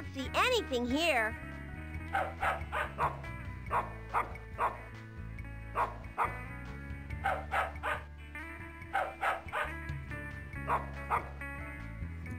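Cartoon dog barks repeatedly in the video game Putt-Putt Enters the Race, short yips in irregular bursts over game music, with a brief whimper near the start.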